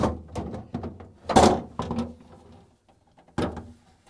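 A plastic drawer on a GE freezer is lifted and slid out, giving a series of hollow thunks, rattles and scrapes, with a final clunk after a short pause.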